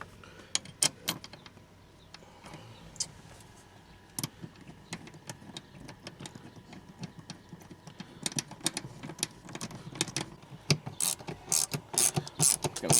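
A hand ratchet clicks in quick, uneven runs while seat bolts are tightened in a Saab 9-3, its close, sharp pawl ticks growing louder and more insistent toward the end.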